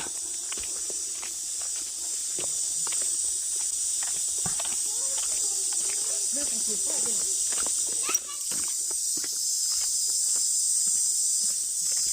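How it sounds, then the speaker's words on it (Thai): A continuous high, shrill buzzing drone of cicadas fills the background at Phu Phra Bat Historical Park in Udon Thani, Thailand, with light footsteps and faint scuffing close by. "เสียงจักรจันเนาะ"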